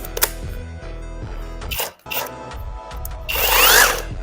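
A rotary hammer drill (perforator) runs in several short bursts separated by brief pauses and handling noise, with a harsher, louder burst at the end.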